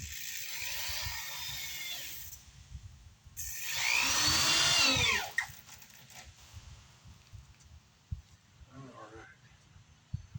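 A power drill driving screws whirs in two or three short bursts, with a faint high whine rising and falling between spells of clunking and handling noise.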